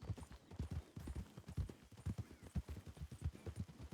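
Video game horse hooves clip-clop in a steady, quick rhythm, close and fairly loud, with no voices over them.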